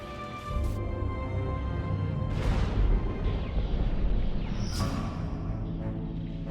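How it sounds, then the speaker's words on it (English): Star Wars: The Old Republic ion cannon fires in deep, booming bursts, with a low rumble underneath and a few sharp, crackling high-energy blasts spaced a couple of seconds apart. "Incoming! That's an ion cannon."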